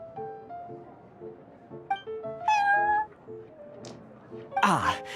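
A cat meows inside the Cat's Tail tavern in the Genshin Impact video game, a high bright mew near the end over a soft musical background of tones, with a voice talking around it.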